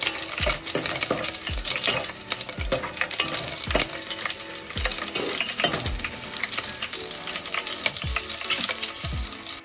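Slit green chillies fry in hot oil for a veg pulao, giving a steady, loud sizzle with repeated scraping stirs of a spoon in the pan and no voices.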